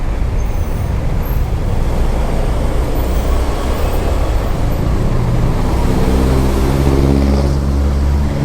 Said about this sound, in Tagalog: Wow, grabe yung traffic na sa Baguio.